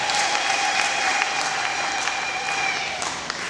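A church congregation gives a sustained round of applause at a Christmas service, dense steady clapping from many hands filling the space from start to finish, loud and close, with a faint voice beneath.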